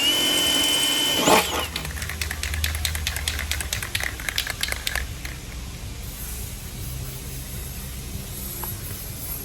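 A power drill bores holes in the sheet metal of a Sprinter van, whining in short bursts, with a sharp metallic bite early on, then quieter intermittent drilling against a steady background hum.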